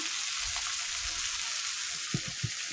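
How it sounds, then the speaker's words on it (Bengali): Fish frying in hot oil gives off a steady crackling sizzle, with a few louder pops near the end and no voices. "দেখুন কত মশমশে হয়ে ভাজছে মাছগুলো"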